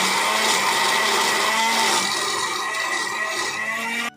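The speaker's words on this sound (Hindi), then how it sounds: "और अब इसे अच्छे से हम ग्राइंड कर लेंगे।" An electric grinder whirs loudly and steadily as it blends a chutney of cumin, salt, mint and coriander, a continuous high whine running several seconds before cutting off abruptly at the end.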